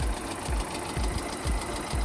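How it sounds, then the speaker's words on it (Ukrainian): A car engine idling close by with a rough, rhythmic knocking pulse, steady and loud throughout with no voices. "Це то моторисько."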